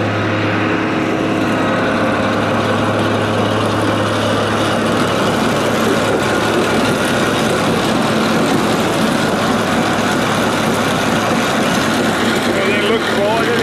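A round baler runs continuously behind a Fastrac tractor, giving a loud, steady droning engine and machinery rumble with a constant low hum throughout, close by and uninterrupted.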